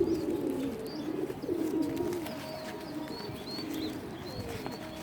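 Male pigeons of fine bloodlines coo in low, repeated rolling calls close by, with faint chirps and background noise around them and no talk.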